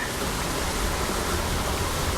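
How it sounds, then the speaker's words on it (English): Water gushing out of a cistern on an outdoor water walk, a loud, continuous, close rushing roar with no pauses. "Can you see this water gushing out?"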